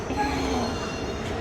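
A Taichung MRT metro train rolls into the station close by, a steady rumble with a faint high squeal of wheels on the rails.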